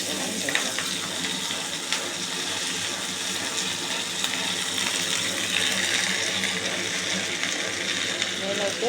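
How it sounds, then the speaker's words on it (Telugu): Curry leaves fry in oil in a kadai, making a steady, close sizzle that continues without a break under light kitchen noise. "ఇప్పుడు మళ్ళీ కరివేపాకుకి ఆయిల్ వేస్తున్నాను అనమాట కరివేపాకు వేయించడానికి"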